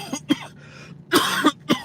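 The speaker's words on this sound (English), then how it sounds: "I thought I was gonna stop coughing once I stopped smoking" Several harsh coughs in a row, close and loud, with a brief raspy throat sound between bursts.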